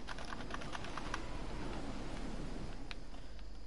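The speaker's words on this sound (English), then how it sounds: "right now I'm using my keyboard" Computer keyboard clicked during Fortnite play, faint rapid tapping over a steady low background hum.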